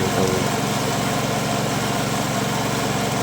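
A 2022 Honda Beat fi scooter engine clogged with mud, running rough with a loud, close, steady buzzing drone and a gritty, uneven idle, no talking.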